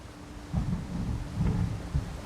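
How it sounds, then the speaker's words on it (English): Thunder in The Elder Scrolls Online, a low rolling rumble over steady rain, swelling in a few deep pulses across a couple of seconds. "All right, thunder, lightning."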